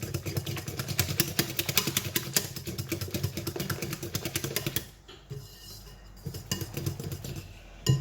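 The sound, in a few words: electric whisk beating cream cheese mixture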